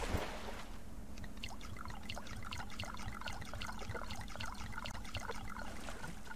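Water pouring for farm animals in the survival game Subsistence, a steady continuous trickle with faint rhythmic ticks running the whole time, moderately loud and with no talking.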